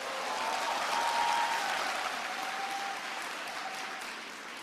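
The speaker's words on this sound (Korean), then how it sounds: "오늘 박수를 참 여러 번 받습니다" An audience applauds during a speech: sustained, dense clapping from a large crowd, loud at first and gradually tapering off over several seconds, with no voices.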